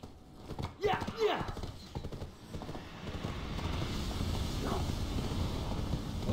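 Horse hooves clip-clop in the online game Black Desert Online, a steady trotting rhythm at moderate loudness beneath a voice talking over the gameplay.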